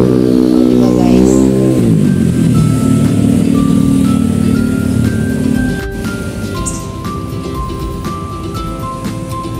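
Vehicles rumbling at a stoplight amid rain, a loud low engine drone that swells and settles, with passing traffic hiss and faint horn-like tones, heard alone without talk.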